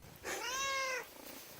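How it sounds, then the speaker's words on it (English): A stray cat meows once on a remote hiking trail in Norway, a clear, drawn-out rising-then-falling cry lasting about a second, close and loud over faint outdoor background. "Ran into a stray cat on the trail"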